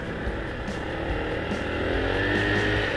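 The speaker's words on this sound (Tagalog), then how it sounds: "galit yung makina niya pag binibigyan mo ng acceleration" FKM Fyro 175 motorcycle engine on a test ride, revving steadily under acceleration with constant loud drone and wind rush, pitch slowly climbing.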